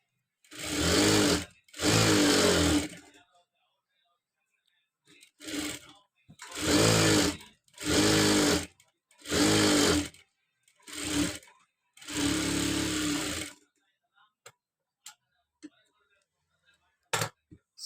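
Sewing machine stitching a cross strip onto a blouse front, running in loud short bursts of rapid mechanical whirring with brief pauses between, ending in a few scattered small clicks.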